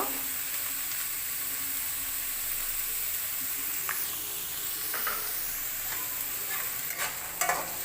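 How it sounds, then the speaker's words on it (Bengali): Chopped vegetables sizzling in hot oil in a pan while being stirred, a continuous close hiss with occasional spatula scrapes and light knocks toward the end, no voices. "এখন সবজিগুলো একটু ভাজা ভাজা করে নেব।"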